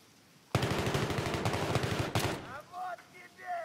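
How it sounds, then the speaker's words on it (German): Rapid gunfire from a Magnum revolver in Battlefield 3 on the Bazaar map, a sudden loud burst of closely spaced shots lasting about two seconds, then fading into game ambience while a player talks. "ich schieße ein bisschen mit der Magnum rum"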